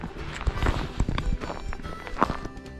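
Footsteps crunch across frozen ground in eastern Oregon before sunrise on a spring turkey hunt, several quick, close, irregular steps.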